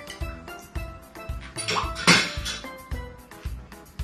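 A spoon clinks and scrapes against a glass while a Ti punch made with rhum agricole is stirred, giving light, irregular metallic taps and one brighter ringing chime near the middle.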